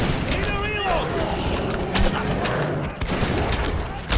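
Gunshots in Metro 2033 Redux, with repeated sharp reports scattered through a loud, busy combat mix and speech over the top.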